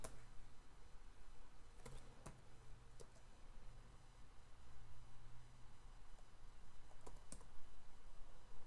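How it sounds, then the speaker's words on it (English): A few separate keystrokes and clicks sound on a computer keyboard as a command is typed. They are quiet and sparse, with a faint background hum between them. "And type /pk set spawn."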